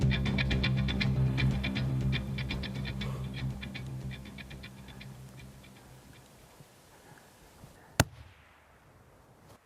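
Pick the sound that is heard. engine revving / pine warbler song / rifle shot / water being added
rifle shot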